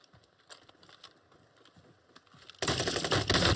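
Warning shots fired in a video game: faint scattered clicks, then a sudden loud, dense burst of rapid gunfire that fills the final second.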